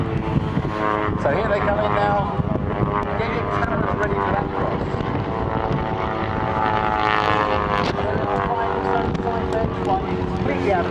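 Propeller aeroplane performing aerobatics at a seaside air day display, its engine droning loudly and continuously with shifting pitch as it manoeuvres, under a commentator's voice over the public address.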